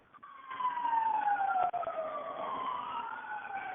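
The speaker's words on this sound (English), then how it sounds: "we have fire sirens outside introducing my presentation" Fire engine sirens wail outside a building, a sweeping tone rising and falling steadily, heard from a distance and muffled through walls.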